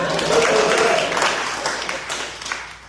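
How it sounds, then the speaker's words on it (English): Applause from an audience at a Macon chamber of commerce sports economics event, a broad wash of clapping that starts loud and slowly fades over about three seconds. "Y'all give them a round of applause."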